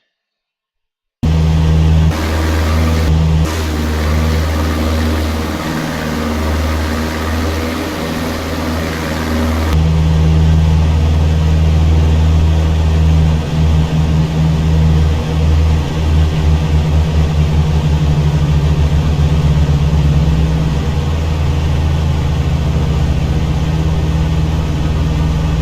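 Engines of a PA-30 Twin Comanche in the Prepar3D flight simulator drone with a loud, steady low hum, shifting in tone partway through, then pulsing as the power changes, with no talking.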